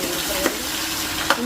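Ginger frying in a pan for mango pickle gives a steady, close sizzle, with two brief scraping stirs of a spatula.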